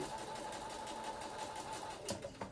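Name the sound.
sewing machine stitching fabric on a line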